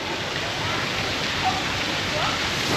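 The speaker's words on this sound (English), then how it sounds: "there's also like this water feature that seems to sort of periodically come on." Water feature running at a condo complex in Hanoi, a steady broadband rush of splashing water filling the whole clip at an even level, with no talk over it.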